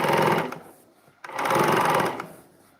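Sewing machine running in two loud bursts while stitching a hat seam along a silver seam guide, each run lasting about a second with a short pause between, close and steady.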